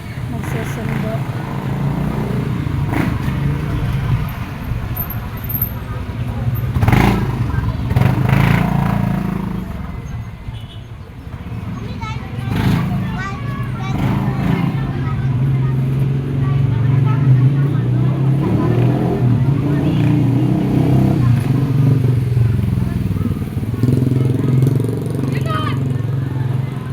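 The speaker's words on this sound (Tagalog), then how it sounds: "Daming motor doon guys, so nakapila." Many motorcycles queue at a gate, their engines rumbling and revving in a loud, shifting drone that swells and dips nearby while a person talks over them.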